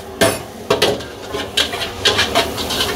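Veg chilli garlic noodles with spring onion and butter being tossed and stirred in a pan over a high flame, giving loud, close clattering scrapes of utensil on metal in irregular bursts.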